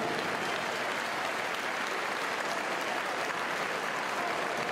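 A room full of people applauds steadily, a dense, even clatter of clapping hands that holds at the same level throughout.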